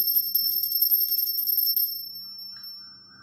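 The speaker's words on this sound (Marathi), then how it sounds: "घंटा वाजवी" A small hand bell rings rapidly and steadily during a Gauri Ganpati puja, its bright metallic peal close and clear for about two seconds before fading into quiet. No voices are heard.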